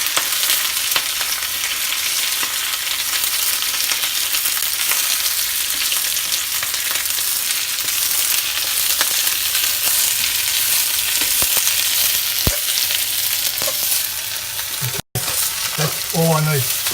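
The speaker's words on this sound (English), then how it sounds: "I'm just going to toss in that spinach" Spinach tossed into hot macadamia oil in a pan gives a loud, close, continuous sizzle with stirring. The sizzle breaks briefly near the end, followed by a few clattering knocks.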